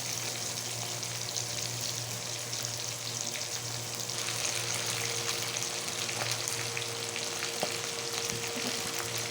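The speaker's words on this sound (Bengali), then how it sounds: "তো এগুলো একটু আমি ভেজে নেবো" Pabda fish frying in hot oil gives a dense, continuous sizzle and crackle close by, with occasional faint utensil taps and no talking.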